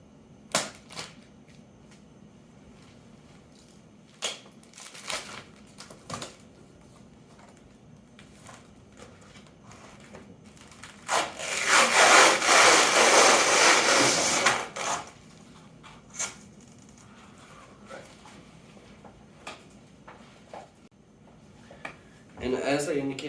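Double-sided sticky tape is scraped off a pane of low-quality Home Depot glass for an enclosure: scattered sharp clicks and taps, then a sustained harsh scraping burst of several seconds, with a voice talking quietly in between.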